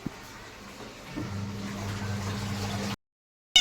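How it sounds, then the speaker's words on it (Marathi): A pot of water heats on a home kitchen stove, a low steady hum with faint bubbling and liquid stir that runs for about three seconds, then cuts to silence before a brief burst of noise. "इकडे पाणी गरम होत आहे"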